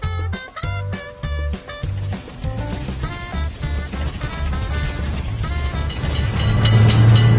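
A cartoon train approaches amid bouncy, melodic music, its rumble building steadily louder toward the end with a sustained horn tone emerging at the close.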